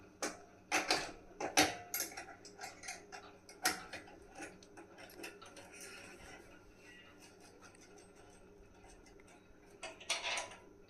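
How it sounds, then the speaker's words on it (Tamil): Metallic clicks and clinks as a 10 mm spanner tightens a nut and washer on a jack assembly, several sharp ticks close together early on, then quieter scattered taps with a few more near the end. "இது மேலே போட்டு ஒரு வாஷர் போட்டு டைட் பண்ணிடணும்."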